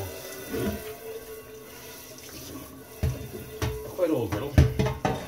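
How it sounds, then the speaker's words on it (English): Water from a tap runs over an old, unmarked cast iron griddle just out of a lye bath, splashing and clattering more loudly in the second half, with a voice speaking faintly. "So, I'm just going to get these rinsed off."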